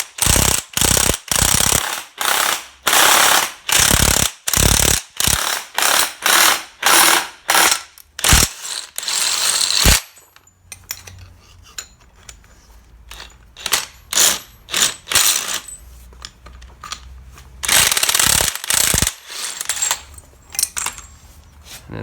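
Ratchet tightening the bolts on a press tool fitting a rear subframe bush on a Volkswagen Polo 9N, heard as loud, close bursts of rapid clicking in regular strokes, pausing midway before resuming.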